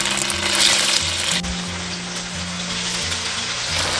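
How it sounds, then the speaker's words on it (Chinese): Egg-coated tofu pieces pan-fry in oil over medium-low heat, giving a loud, continuous sizzle and crackle close by, with brief shifts as the pan moves and no talking. "烧豆腐中小火慢煎"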